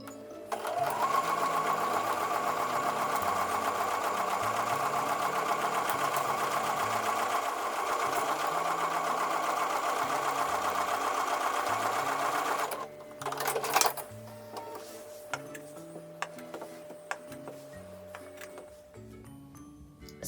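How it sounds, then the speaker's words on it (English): A sewing machine runs steadily, stitching a 1/4 inch seam along pinned quilt pieces for a long continuous stretch, then stops, leaving soft handling clicks and rustles. "I'm going to take these over to the sewing machine and I'm going to sew a 1/4 inch seam along the pinned"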